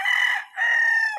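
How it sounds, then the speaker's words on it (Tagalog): A Kelso rooster crows close by, one loud call in two drawn-out phrases with a brief dip between them, with no other sound. "inahawakan kong manok is Kelso."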